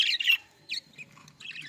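Budgies in a breeding aviary with birds sitting on eggs squawk and chirp close by in several sharp bursts, a harsh squawk first and then shorter chirps, with no talking.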